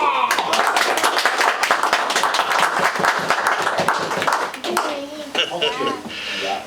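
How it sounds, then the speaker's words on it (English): An audience at a Christmas magic show in a Plymouth bar breaks into lively, close clapping that stays energetic for several seconds and then thins out, with voices chattering as it fades. "Now the audience go wild with applause."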